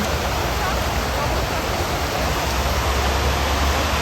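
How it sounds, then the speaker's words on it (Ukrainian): Children's water fountains splash steadily at a playground by a swimming area, a dense, continuous hiss of falling water close by. "ось там фонтанчики для дітей"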